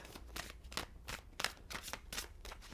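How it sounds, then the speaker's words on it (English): Tarot cards shuffled by hand in a steady run of soft papery riffles and slaps, about two or three per second, close and fairly quiet with no talk over them. "let's shuffle the cards"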